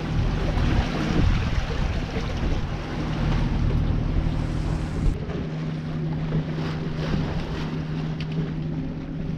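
Sailboat running under engine at sea through swell, a steady low motor drone mixed with wind buffeting the microphone and water rushing past the hull, continuous and close, no voices.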